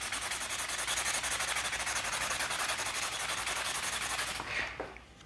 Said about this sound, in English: simply get the 2000 and sand it a bit from this side